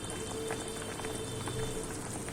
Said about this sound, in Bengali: জল ফুটে এসেছে, ঝোলটা ফুটছে